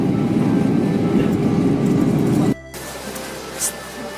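Airliner cabin on approach into Amsterdam from London Heathrow: a loud, steady engine roar that cuts off abruptly partway, leaving quieter cabin hum.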